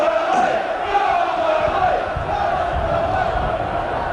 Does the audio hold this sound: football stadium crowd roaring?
yes